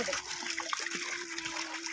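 Children splashing in bath water on a hot day, a steady watery splatter and trickle running throughout, with an adult voice talking over it.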